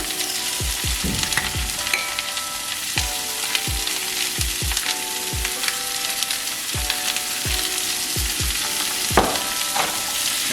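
Onions sautéing in a hot pan give a steady close sizzle, with frequent sharp clicks and taps of a utensil stirring against the pan throughout.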